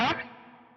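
An electric guitar runs through the reverb block of a Fractal FM3 modeler: a bright struck note that quickly gives way to a long, smooth, fading wash of cavernous reverb tail.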